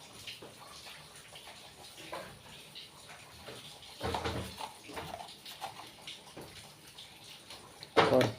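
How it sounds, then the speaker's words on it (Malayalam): Water runs and splashes into a cooking pot for boiling lentils with a little salt, a continuous pouring stream with a louder gush near the end, close by with no talking. "ഇത്രയും വെള്ളം വേണ്ടി വരും."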